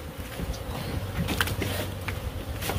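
Killer bees hum around a hive in a shed in Sunsites, a dense, steady buzzing drone close by, with a few faint knocks and rustles.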